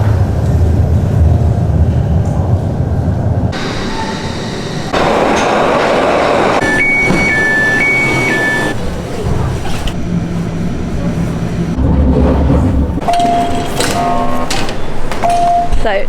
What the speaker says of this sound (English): The Glasgow subway is one of only 3 in the UK.